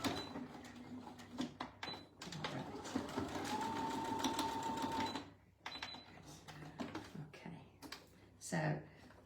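A sewing machine runs a plain straight stitch around the sides of a shirt pocket, with a steady motor whir broken by short pauses and handling noise, while a person talks over parts of it.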